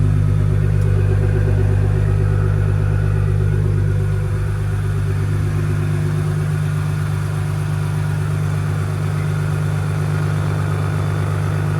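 A Ford Ranger Raptor engine fitted with a dump pipe idles steadily, close and loud, with a deep droning hum that eases slightly partway through and holds without revving.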